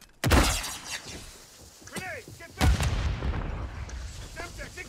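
A grenade blast in Warzone on Rebirth Island: a sharp, loud boom with shattering debris, followed by a second heavy impact and fading rumble, with a voice talking between them.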